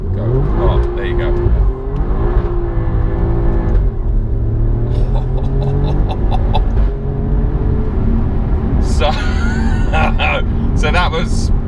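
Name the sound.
sports car accelerating hard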